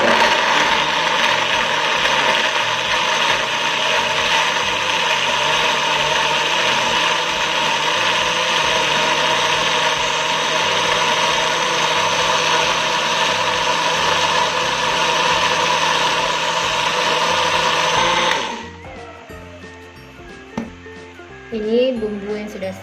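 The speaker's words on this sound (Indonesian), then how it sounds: "Sekarang tinggal kita tambahkan sedikit air untuk memblender." A kitchen blender grinds spices for Acehnese stir-fried shrimp with a little water added, a loud steady whirring drone running continuously for about eighteen seconds before cutting off, followed by faint handling clatter.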